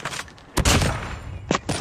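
Bursts of M4 rifle fire in Call of Duty Mobile, several sharp, loud cracks in quick succession with brief gaps, close and punchy, with no talking.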